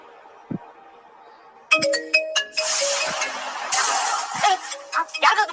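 A mobile phone rings with a loud, melodic electronic ringtone that starts suddenly and repeats its bright chiming notes for several seconds, with a few soft knocks beforehand.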